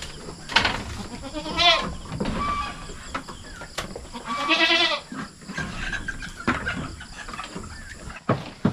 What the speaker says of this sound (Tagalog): Yan po yung native natin na kambing na itim.